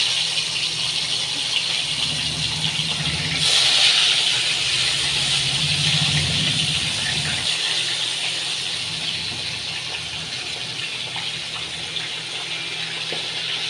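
Tilapia fish fry in hot oil with a continuous bright hiss and sizzle, a louder spitting surge early on, then settling into a steady, gradually softer frying sound.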